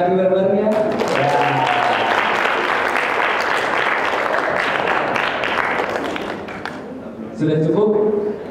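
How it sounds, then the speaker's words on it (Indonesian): Audience at a student board election debate clapping together; a sustained burst of crowd applause, loud and close, with a voice talking briefly before and after it. "Mungkin kita tepuk tangan kali bareng-barengnya"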